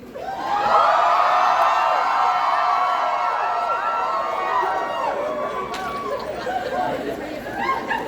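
Convention panel audience for a Hazbin Hotel voice actor panel cheering and shouting loudly, a dense sustained roar of whoops and chatter that fills the whole stretch and eases slightly toward the end.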